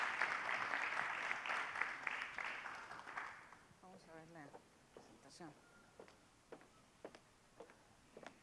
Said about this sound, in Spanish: Demos un aplauso y 15 minutos tenemos de presentación